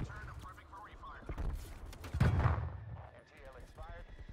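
Gunfire and booming blasts from a strafe run in a multiplayer shooter video game, one heavy burst building near the middle and then fading. Voices talk over much of it.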